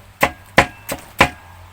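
A knife chops through banana stalk for a fermented soil tonic, four sharp, evenly spaced thuds on a board in quick succession, close and crisp with no voices.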